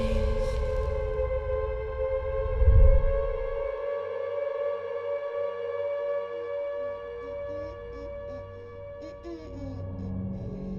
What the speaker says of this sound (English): A sudden wailing sound of a siren summons the monster